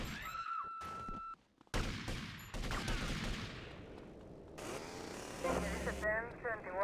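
Chaotic video game gunfire, a dense crackling barrage with a brief dropout near the start, mixed with engine-like roars and other game effects, moderately loud.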